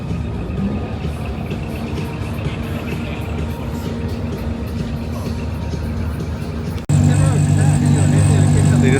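A Honda EG Civic fires up at a busy car meet. Crowd chatter and ambient engine noise run for several seconds before the car abruptly bursts into a loud, close, steady running drone.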